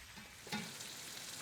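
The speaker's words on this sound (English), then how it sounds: "After a minute, I turn the prawns and let them fry 1 minute on each side." Steady sizzling of prawns frying on high flame in a hot pan, with a brief louder crackle partway through, and no voices.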